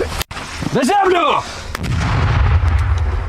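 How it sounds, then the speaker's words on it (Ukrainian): A training hand grenade detonates during a police unit's combat drill, a loud, sharp close blast followed by a long rumbling roar that fades slowly. "Граната огонь!"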